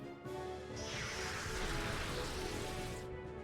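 The Shadow Rain move effect in Pokemon XD plays as a dense, hissing wash of synthetic rain with a swooshing sweep that holds steady for a few seconds, faint and without voices.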